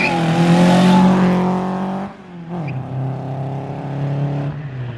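A supercharged Honda D16Y8 car engine runs loudly at a steady idle, then drops and picks up again as the vehicle pulls away, its rumble continuing to the end.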